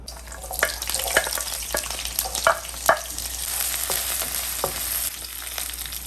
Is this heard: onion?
yes